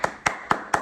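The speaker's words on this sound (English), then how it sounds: "clap it up for these defenses, man." Four crisp hand claps at an even, quick pace, close and clear with nothing else sounding.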